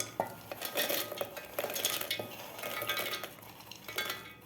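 Roasted makhana and rock sugar being scraped out of a mixer jar: repeated metallic clinks and scrapes of a spoon against the steel jar, close and fairly quiet, in irregular bursts.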